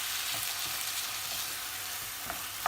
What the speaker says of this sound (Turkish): Şimdi pirinçlerimle birlikte tamamen suyunu çekene kadar kavuruyorum